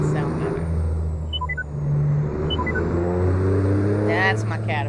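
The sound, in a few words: truck with Caterpillar engine sound mod, American Truck Simulator video game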